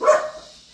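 A dog gives a single short bark at close range, loud at first and trailing off quickly, with no talk over it.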